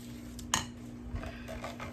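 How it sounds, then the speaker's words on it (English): A spatula scrapes around the sides of a mixing bowl of lemon rum pound cake batter, giving a sharp clink against the bowl and then a few softer scraping strokes, close and fairly quiet. "Always scrape your sides, especially if you're using a hand mixer."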